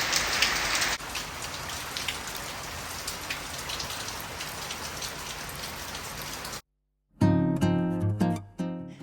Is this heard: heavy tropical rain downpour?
yes